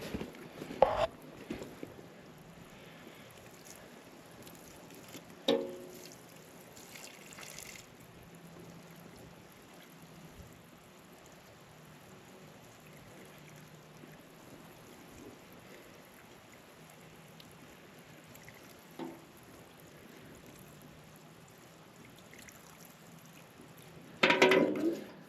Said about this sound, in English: And give her a good watering.